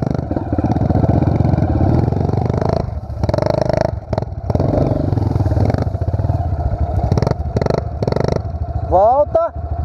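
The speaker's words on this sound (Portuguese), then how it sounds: "Não adianta teimar com a moto, ela só passa no embalo." A Pro Tork TR100F mini motorcycle engine revs on a dirt trail, its buzzing drone loud and close with repeated throttle surges and brief dips, while people talk over it.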